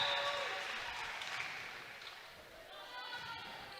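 Applause from the crowd at a high school volleyball match in Wisconsin, a soft, distant wash of clapping and cheering in a gym that fades slightly and then swells again.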